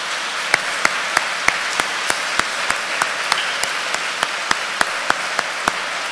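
Congregation at a church service claps in a sustained wash of applause, punctuated by sharp, regular rhythmic claps that beat steadily throughout, with no talking over it.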